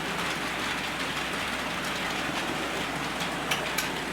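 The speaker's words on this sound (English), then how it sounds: "I can bring the DMU towards that inner part of the loop" An analogue model railway DMU running around a layout loop, a continuous close rolling hiss and rumble of small wheels on track with a couple of faint clicks near the end.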